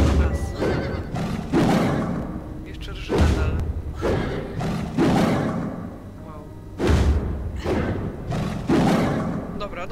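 Horse neighing and whinnying in the video game Alice Madness Returns, several loud repeated whinnies interleaved with heavy thumps, arriving in bursts every second or two.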